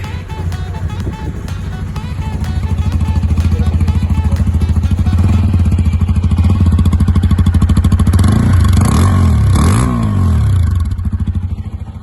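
A TVS Apache RTR 160 2V motorcycle engine starts and settles into a loud, close, steady idle with a fast rhythmic pulse, then rises through blips of revving near the end.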